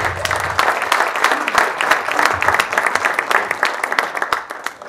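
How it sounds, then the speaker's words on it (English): An audience gives warm applause to welcome a lecturer onto the stage at an evening tourism lecture, loud, dense clapping from a large crowd that holds steady for about five seconds. "Please welcome with a warm applause."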